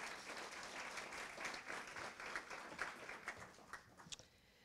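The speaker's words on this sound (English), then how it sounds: "If we can give them a round of applause." A community audience applauding a steering committee, steady crowded clapping heard from some distance, fairly soft, with a few sharper individual claps standing out as it gradually tapers off.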